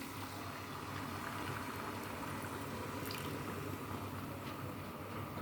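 Okra dropped onto fried garlic in a pan for a Upper Egyptian-style okra dish, a soft continuous sizzle and bubbling at low volume, steady throughout with a small bump at the very end.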